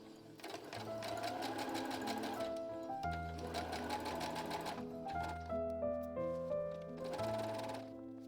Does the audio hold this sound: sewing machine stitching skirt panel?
yes